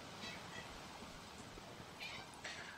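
A pet cat meows a few times, sharp mid-pitched cries rising over steady background noise from Dark Souls 3 gameplay.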